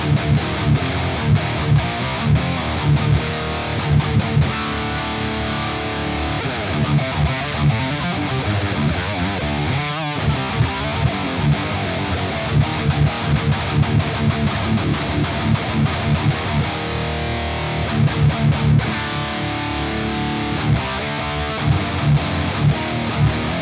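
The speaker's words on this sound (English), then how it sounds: "I'm now going to switch to my Les Paul guitar with the Ryan Bruce pickup in the bridge" A heavily distorted Les Paul electric guitar chugs through thick, high-gain metal riffs with palm-muted rhythm, loud and continuous throughout.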